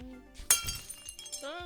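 A glass jar holding four small turtles smashes as a bouncing metal canister strikes it, giving one sharp, bright crash with a brief ringing tail, heard close and under a narrating voice.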